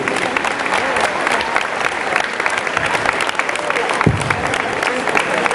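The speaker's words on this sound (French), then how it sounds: "On va lui faire un tonnerre d'applaudissements" A crowd at a New Year's musical lunch in Montpellier breaks into dense, sustained applause, loud and steady throughout with a faint voice briefly surfacing in the mix.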